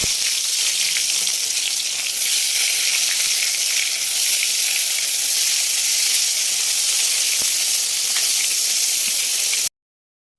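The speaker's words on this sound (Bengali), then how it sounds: "তো এইদিকে রান্না এখন করছি বেগুন ভাজা।" Eggplant slices fry in a pan with a steady, dense sizzle and hiss, close and continuous with faint crackles, then cut off abruptly near the end.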